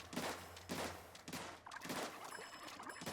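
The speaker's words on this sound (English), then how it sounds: "shoot, launch, and shoot again." Recycled Brella 24 Mk I firing in Splatoon 3 Salmon Run: a few spaced, burst-like shotgun blasts and splatty launches, fairly close and moderately loud, with small electronic game tones near the end.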